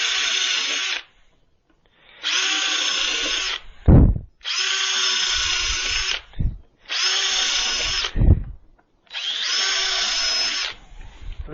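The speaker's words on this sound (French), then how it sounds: "Alors je perce juste la planche," Power drill with a 4 mm wood bit boring through a wooden plank: five loud, close bursts of steady whirring, each about a second long, separated by brief pauses with low thumps as the bit is handled.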